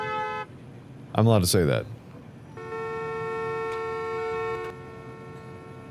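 Car horns honk in the Parking Tycoon: Business Simulator game: a tonal toot near the start, then a long steady horn blast lasting about two seconds, with a voice speaking over a busy burst in between.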